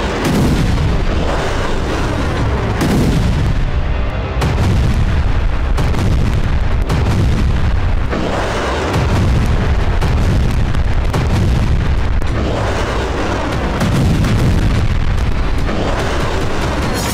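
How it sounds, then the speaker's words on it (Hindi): Bombs exploding in air strikes on Gaza, a loud, continuous barrage of heavy booms and rumbling blasts that repeat every couple of seconds over a steady roar. "हवा से बारूदी वज्रपात हो रहा है।"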